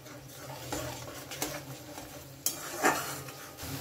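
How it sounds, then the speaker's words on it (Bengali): Ground spices with a pinch of sugar being fried and stirred in a pan for a vegetarian paneer dish, soft scraping strokes over a low sizzle with a couple of sharper utensil clinks, close and fairly quiet. "প্রায় কষানো হয়ে গেছে মশলা"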